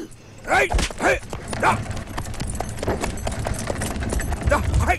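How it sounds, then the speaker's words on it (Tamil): Horse hooves clip-clopping as a horse sets off in a Tamil comedy film scene, with a steady rhythm of hoof beats sounding beneath animated talking voices. "நீ குதிரைய கிளப்பு"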